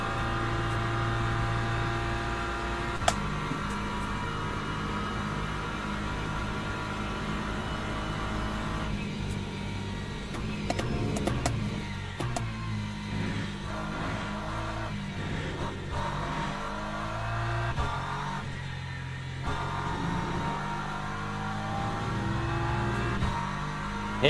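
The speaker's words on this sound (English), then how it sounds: "Right, here come the hypercars, chap." Hypercars in Le Mans Ultimate at Spa race past during a World Endurance Championship event, engines droning and rising in pitch in a steady, moderately quiet blend with no talk.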